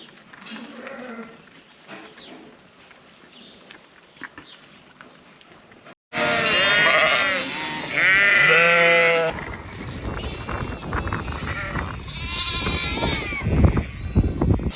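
Sheep bleat loudly and repeatedly on a farm during lambing season. The calls overlap closely after a quieter stretch of low background sound, and a later section is denser and noisier.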